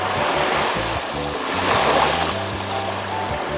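Waves washing onto the beach at Futamigaura in Itoshima, Fukuoka, a continuous close roar of surf with rolling swells and light wind, no talk.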